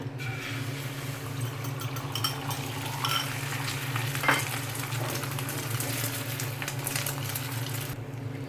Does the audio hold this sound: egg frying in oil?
yes